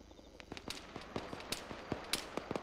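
Gunfire in the video game ArmA cracks out as a string of sharp, distant-sounding shots in an irregular rapid rhythm, fairly faint against background noise.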